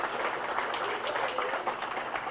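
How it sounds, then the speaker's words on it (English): An audience at a summer program session gives a round of applause, a continuous patter of many hands clapping at moderate volume from across the room. "Give a round of applause"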